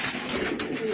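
Domestic pigeons of tumbler flocks coo with soft, throaty rolling calls, close and continuous over a brief stretch, with no speech.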